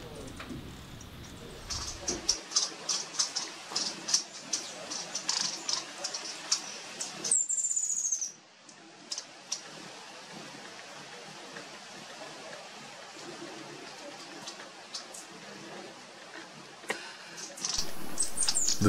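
Hummingbirds at garden feeders give rapid high chirps and squeaks in scattered bursts, with faint wing hum and a soft breezy background, close but fairly quiet and without talk.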